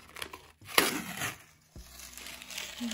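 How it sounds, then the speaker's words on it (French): Masking tape is peeled off a surface close by, a short crackling rip followed by softer sticky tearing and a dull thump. "il me reste plus qu'à enlever le scotch"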